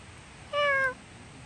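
A single short, clear meow, close and alone against faint background noise.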